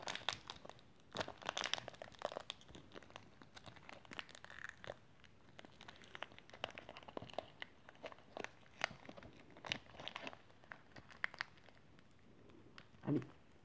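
A Magic, Pokémon or Yu-Gi-Oh trading card booster pack wrapper is crinkled and torn open by hand, giving repeated close crackling bursts with brief pauses and no talking.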